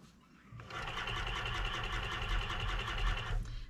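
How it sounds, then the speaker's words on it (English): A sewing machine stitches a fur pelt for a hunting muff, a fast steady mechanical whirr running about three seconds close up before stopping, no voices. "And I'm sewing pretty much as close to the edge as I can."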